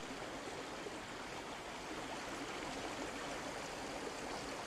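A swollen forest river in Fiordland rushes steadily after heavy rain, a dense, unbroken wash of flowing water heard close and loud, with no voices.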